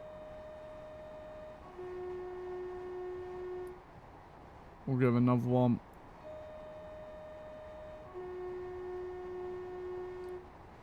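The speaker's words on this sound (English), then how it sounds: "let's give them a little toot of the horn" Two-tone train horn of a Class 158 EMT unit in World Train Sim 5 sounds one brief, loud blast midway through. Someone talks over steady cab hum before and after it.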